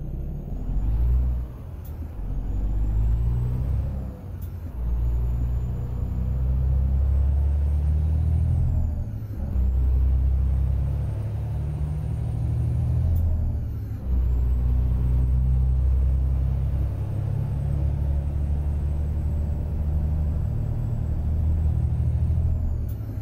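A heavy truck engine rumbles steadily in American Truck Simulator, with several sharp hissing air brake releases cutting in at intervals over the loud, constant low drone.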